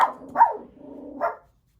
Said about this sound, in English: She heard another dog outside.